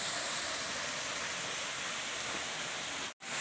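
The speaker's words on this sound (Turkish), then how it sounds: "ilk şelaleye geldik" Değirmenağzı waterfall in Kozlu pours in a steady, full rushing roar of falling water, close and unbroken, with a brief drop to near-silence just before the end.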